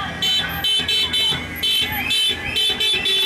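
Car horns honk in repeated, evenly spaced loud bursts at a street demonstration in Santiago, Chile, with a mix of crowd noise underneath.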